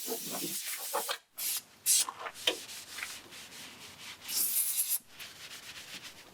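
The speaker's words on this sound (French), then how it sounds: "Je nettoie bien les restes et les projections de joints qu'a pu laisser la brosse métallique." Scrubbing and rubbing with a wire brush as old gasket residue and spatter are cleaned off in a BMW E36 325i engine bay, close hissing strokes in uneven bursts separated by brief pauses.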